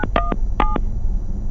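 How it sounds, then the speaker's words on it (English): Two short bursts of telephone keypad dialing tones, each a quick pair of clear beeps, sound close and alone over a low background hum before a radio call. "I'm going to dial him right now."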